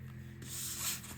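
A scoring tool drawn along paper for a handmade purse, a short soft scraping stroke, close and quiet, with no talking.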